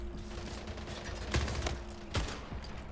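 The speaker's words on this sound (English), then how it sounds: "I can shoot you through the portal" Bursts of submachine gun fire in a video game set in a Portal-style test level, with a few sharp shot transients over a steady dense noise bed at close range.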